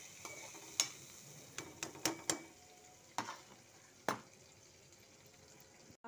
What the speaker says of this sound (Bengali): এটা একটু ভালো করে নেড়ে নিই।